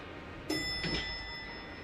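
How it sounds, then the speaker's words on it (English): An elevator bell in the video game Pokemon Pokopia rings one bright chime whose tones hang and ring out over a steady background hiss. "I like to hear the elevator bell."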